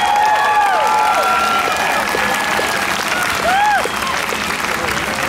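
Outdoor amphitheater crowd at a tribute concert cheering and clapping in a continuous broad roar, with whistles rising above it before the noise eases slightly near the end.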